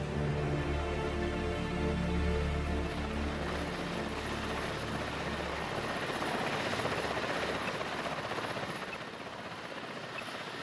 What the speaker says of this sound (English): the helicopter provides a distraction